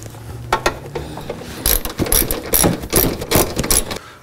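A small sheet metal screw is driven into a car's inner fender to mount a resistor bracket, giving a series of close, rapid ratcheting and whirring bursts from a driver, repeated several times in quick succession.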